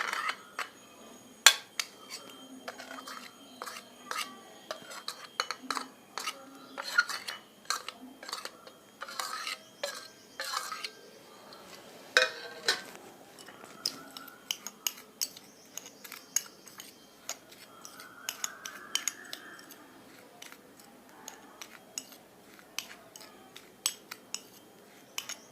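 Spices for a street-style cucumber masala salad are mixed in a bowl, with soft intermittent clinks and scrapes of a spoon against the container, quiet and irregular across a long stretch.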